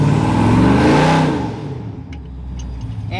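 A truck engine fitted with a 5,000 rpm stall converter and trans brake revs hard to about 3,000 rpm, then falls away to a quieter idle, loud and close.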